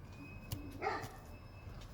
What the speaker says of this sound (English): there's our Doberman